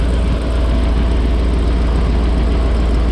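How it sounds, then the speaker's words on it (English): A van engine idles with a leaking exhaust manifold gasket, a loud, steady low rumble with a rough, breathy hiss layered over it, close by and continuous, with no talking. "But I do hear an exhaust leak."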